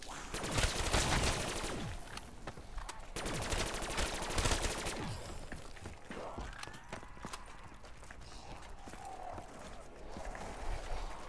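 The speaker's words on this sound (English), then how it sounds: "I keep turning the turret on." Turret firing in Call of Duty zombies on Kino Der Toten, loud rapid automatic bursts in two long runs, followed by quieter scattered shots and game effects.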